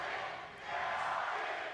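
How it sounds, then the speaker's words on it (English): An esports arena crowd cheering and roaring in a broad, sustained swell at the Champions event, briefly dipping and then surging again. "The crowd are trying to will it into existence"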